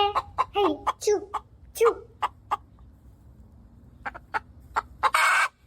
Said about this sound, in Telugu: పక్కింటి కాంతమ్మ కోడి మా దొడ్లో గుడ్డు పెట్టిందే